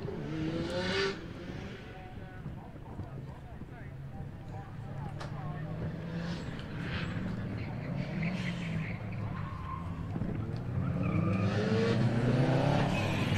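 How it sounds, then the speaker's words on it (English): A Subaru car runs a gymkhana warm-up section, its engine revving and fading while tires squeal intermittently, heard at a distance beneath continuous commentary from a man over a loudspeaker. "now we got the Subaru on the warm-up section"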